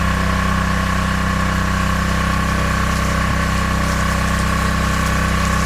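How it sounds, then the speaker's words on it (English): A softwash house-washing rig's pump runs on freshwater rinse. It gives a loud, steady mechanical drone with a constant hum and no breaks, close by. "just using a remote on this luxury pack, we can flick over to our freshwater rinse"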